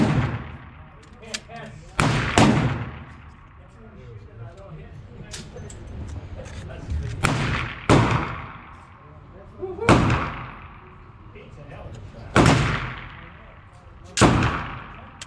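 An FNX-45 Tactical pistol fires single loud, sharp shots outdoors, about six shots spaced a couple of seconds apart. Each shot rings out with a short echo, and talk is heard between them.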